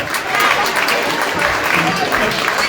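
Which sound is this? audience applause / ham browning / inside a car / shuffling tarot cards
audience applause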